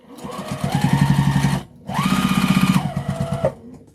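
A sewing machine stitches fabric scraps together for a mug rug, running in two close, steady mechanical bursts separated by a brief pause.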